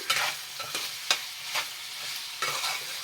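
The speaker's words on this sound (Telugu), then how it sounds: "మసాలా ఆయిల్ అంతా కలిసేటట్టుగా మనం దీన్ని బాగా కలిపేయాలన్నమాట" Chicken tikka masala being stirred in hot oil: repeated scraping strokes of a spoon through the pan, about six distinct stirs in steady rhythm over a soft, constant sizzle, close and clear.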